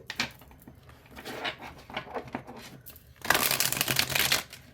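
Tarot cards riffle and slide against each other in quick flicks, then a dense, louder shuffling burst near the end, close up with no talking.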